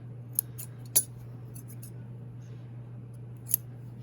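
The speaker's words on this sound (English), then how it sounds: "I can trim my threads nice and close to the fabric." Scissors snip thread ends close to the fabric after hand-knotting a sewn dart; a few sharp, light metallic snips, close by, spaced apart over a constant low hum.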